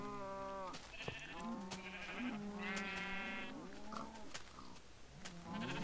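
Sheep in the Minecraft video game bleat several times in a row, a baby sheep among them, with wavering, nasal cries that overlap and follow one another closely and clearly, with no talking.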